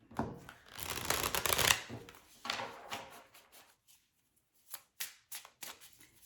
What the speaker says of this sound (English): I'm just going to move these cards slightly.